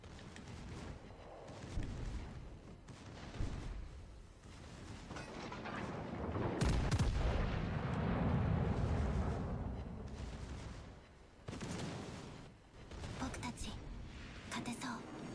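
Secondary guns firing in World of Warships: Legends, a run of booming artillery blasts and rumbling impacts, loud and close, with a voice talking over the gunfire.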